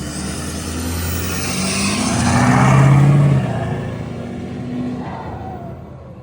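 A 2012 Ford F250 Lariat 4x4 diesel truck engine revs up, a steady low rumble swelling to a loud peak in the middle and then settling back to a strong idle, close by with no voices.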